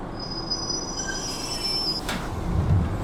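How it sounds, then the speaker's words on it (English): A metro train pulls into a station on a light-rail line extension, its wheels squealing in a thin steady whine over a broad rumble that swells as it nears, with a low thud toward the end; no voices. "Yeah, this train is on time, look."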